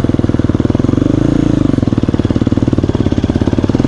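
Enduro motorcycle engine held at steady throttle while climbing a hill, a loud, close, continuous rhythmic thrum with a slight dip in revs midway, no talking.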